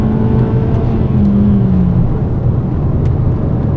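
A 2011 Ford Focus 1.6 Sigma engine revs hard while accelerating in gear, a loud continuous drone rising steadily in pitch, close and heard alone from inside the car.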